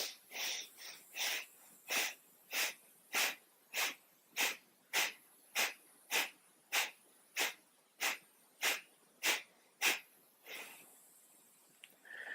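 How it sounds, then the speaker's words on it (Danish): Yoga pumping breath: a steady train of about fifteen sharp, forceful exhalations through the nose at an even quick rhythm, close and clear, ending in a longer breath with no talking. "Så du puster luften ud gennem næsen, trækker navlen ind mod rygstøjlen, så det bliver den her meget udtalte pumpebevægelse."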